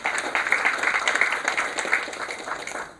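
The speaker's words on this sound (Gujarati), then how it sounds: "એમને આપણે તાળીઓથી વધાવીએ." An audience applauding to welcome a doctor before a health talk on cancer prevention, dense steady clapping throughout, moderately loud and slowly tapering.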